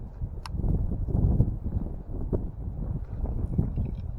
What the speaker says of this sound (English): Big gust of wind right there